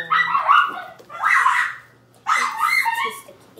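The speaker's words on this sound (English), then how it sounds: "there's dogs over there that can hear us. They're barking extra loud" Dogs barking loudly nearby in three bursts, with yips and whimpering tones mixed in, alone with no talk over them.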